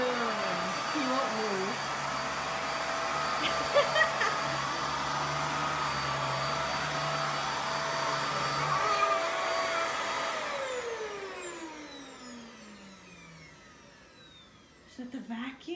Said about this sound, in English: Is that the vacuum?